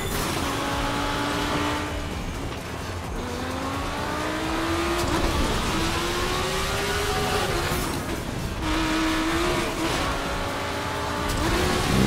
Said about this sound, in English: the roar of the engine must be incredible